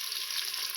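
Onions and green chillies frying in a pan for prawn biryani, a short burst of continuous hissing sizzle with a soft stir-like bump at the very end.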